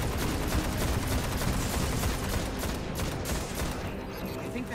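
Sustained heavy gunfire in the video game Destiny rattles on continuously and loud throughout, dense and unbroken, with faint voices buried underneath.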